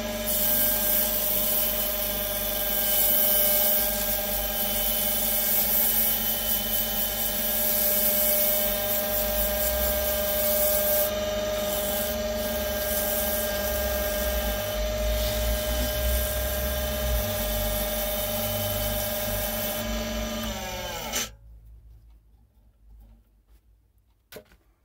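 Power sanding on a homemade sanding mandrel gives a loud steady whine with a constant motor hum for about twenty seconds, then the motor cuts out and spins down into near silence.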